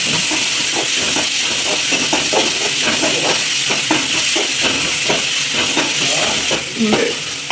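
Tomatoes with ginger garlic paste sauté in a pan for a kada curry, giving a steady, loud sizzle and hiss with repeated scraping stirs throughout.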